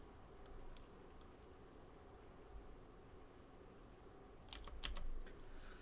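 A clicky computer keyboard being typed on, faint and close, a few scattered keystroke clicks over steady room hiss, then a quick cluster of sharper clicks near the end.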